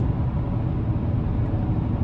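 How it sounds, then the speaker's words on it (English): Continuous low rumbling road and tire noise from inside a moving 2025 GMC Sierra 1500 AT4X 6.2 pickup, steady and fairly loud, with no voices. "I can hear how loud the tires are"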